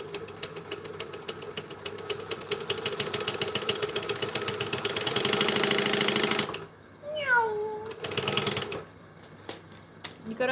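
A walking foot sewing machine stitches in a rapid, even mechanical chatter that speeds up toward a louder run, then stops. A voice then imitates the machine's whirring rise and fall, and the stitching briefly resumes near the end.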